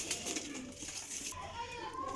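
Pigeons of old Chinese black-pied breed coo softly and continuously at moderate distance, a low murmuring flock sound with some background noise and no clear speech.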